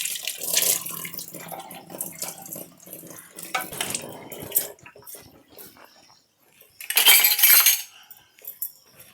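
Brass pooja vessels washed under a running tap, with bursts of splashing water alternating with metallic scraping and clinks of vessels being rubbed and handled, close and fairly loud, with a strong gush near the end.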